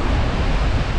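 Waves dash against stones along a shoreline, giving a loud, steady broadband wash of rushing water close to the microphone, with no distinct breaks and no talking.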